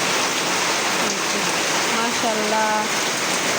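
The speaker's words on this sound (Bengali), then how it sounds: "হঠাৎ করে একটু বৃষ্টি নামছে" Sudden rain falling after a hot day, a steady broadband hiss of rainfall throughout while a voice speaks briefly over it.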